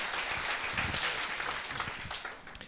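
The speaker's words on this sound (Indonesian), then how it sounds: "berikan dulu tepuk tangan buat Allah kita." A church congregation at a Sunday service bursts into warm, sustained applause. Many hands clap together in a dense, fairly near wash that slowly fades.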